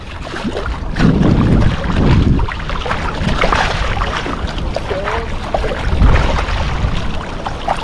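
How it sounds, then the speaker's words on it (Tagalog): Big waves slap and wash against a small fishing boat at sea, with gusty wind buffeting the microphone and brief faint voices in the background. "Laki ng alon."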